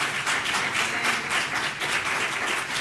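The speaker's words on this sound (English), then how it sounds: "Let's give them all a big round of applause." Steady crowd applause fills a school district board meeting, many hands clapping at an even density throughout with no talk over it.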